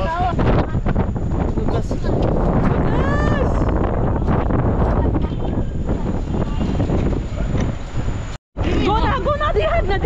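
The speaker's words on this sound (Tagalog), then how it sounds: "Very windy." Strong wind buffets the microphone at an airport during family travel, a loud, rough low rumble that continues almost without a break, with people talking over it and a brief dropout near the end.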